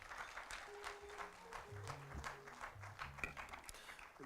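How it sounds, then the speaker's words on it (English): A conference audience at a high-level forum on South-South and triangular cooperation applauds in a soft, continuous patter heard from a distance, faint and steady, with a low hum underneath. "Another round of applause, please"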